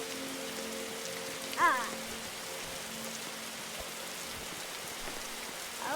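Rain falls steadily in a video game, a soft even patter that stays faint beneath a low tonal hum, with a brief voice exclamation partway through.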